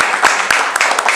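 Applause from an audience at a political Q&A event: a brief, steady wash of clapping with a few sharper hand-claps standing out near the listener.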